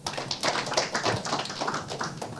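Audience clapping at a hypnosis stage show, a dense burst of many hands close by, steady for a couple of seconds with no talking over it.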